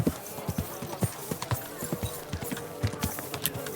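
Steady clip-clop of horse hooves at a trotting rhythm in the video game Kingdom Come: Deliverance 2, fairly close and clear, with faint background ambience.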